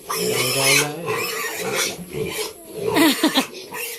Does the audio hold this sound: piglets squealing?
yes